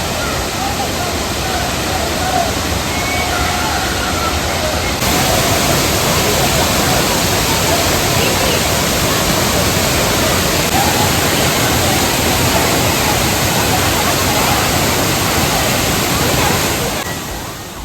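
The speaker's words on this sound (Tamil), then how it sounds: "ஆர்ப்பரித்து கொட்டும் அருவியில் உற்சாக குளியலில் ஈடுபட்ட சுற்றுலா பயணிகள்." Thirparappu falls roar heavily in a dense, continuous wash of falling water, loud and close throughout, steady for well over fifteen seconds before it tapers briefly at the end.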